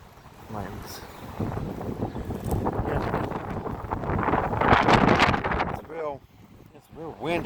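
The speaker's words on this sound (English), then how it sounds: "It's real windy." Strong wind gusts buffet the microphone outdoors in a warm garden, a loud rumbling roar that swells and dips, with someone talking over it at times.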